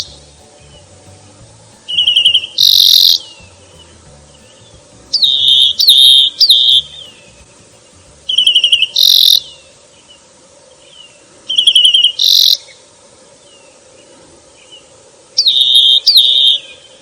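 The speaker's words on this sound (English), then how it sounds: "Bird number 19, the rock wren." Rock wren song: five clear, bright repeated phrases spaced a few seconds apart, each a quick burst of whistled notes, close and loud over a quiet background.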